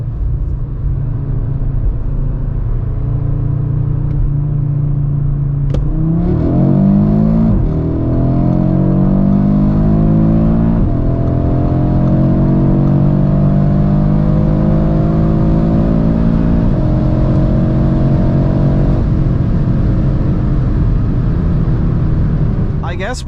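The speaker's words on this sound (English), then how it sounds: "So let's now see how fast the RS3 goes 100 to 200." A 2022 Audi RS3 accelerates hard from 100 to 200 km/h, a loud in-cabin engine roar climbing through the gears with a brief drop at each shift, steady road rumble underneath.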